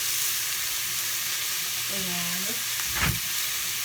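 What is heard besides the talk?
ground beef chuck sizzling in a frying pan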